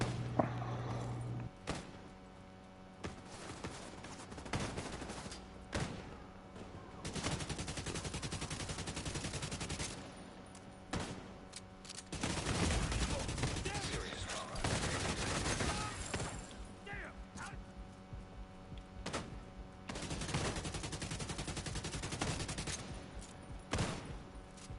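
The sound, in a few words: gunfire in The Division 2 video game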